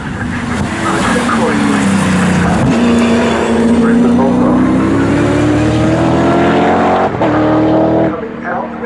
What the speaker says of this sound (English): they are on to the straight yet again, and yeah, Janicki seems to pull away down the straight